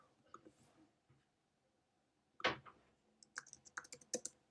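Keystrokes on a computer keyboard while code is typed, a sharp burst of clicks followed by a quick irregular run of taps, fairly close, with faint background before.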